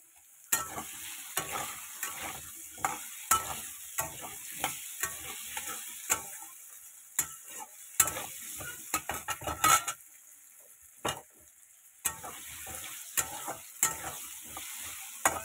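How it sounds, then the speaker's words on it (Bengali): Potatoes fry in a pan while a utensil stirs them, giving a soft background sizzle broken by repeated sharp scrapes and clanks of metal against the pan at irregular intervals. "ভালো মতো লাল লাল করে আগে ভাজা হোক আলুটা"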